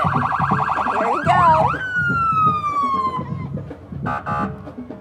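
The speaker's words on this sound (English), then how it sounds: "Like the sirens." An emergency siren wails nearby during a July 4th parade in Harrisburg, a rising and falling electronic tone that sweeps down, followed by a short horn-like burst.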